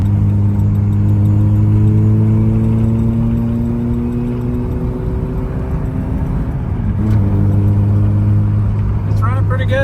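A Mazda Miata drives down the road on a test run after a thermostat water outlet repair. Its engine drones loud and steady from inside the car, rising in pitch through gears with a brief shift dip midway.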